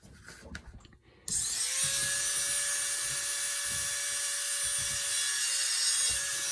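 A small rotary carving tool undercuts the beak of a wooden finch carving, switching on after a few soft taps into a steady, close high whine with a faint grinding hiss.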